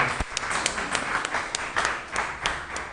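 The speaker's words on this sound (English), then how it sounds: "Please, everybody, big applause for our dear brother." A small group claps in scattered, uneven bursts, close and fairly light, the individual hand claps distinct.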